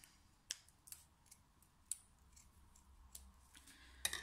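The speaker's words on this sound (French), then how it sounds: "Alors moi j'ai ce ruban de Noël que je vais couper un morceau." Christmas ribbon cut with scissors, a few faint, close clicks and snips spaced irregularly over a quiet background.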